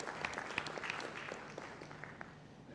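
Audience applause at an ERCP live endoscopy conference session, a faint, scattered patter of hand claps from a room of listeners that holds steady before slowly thinning out.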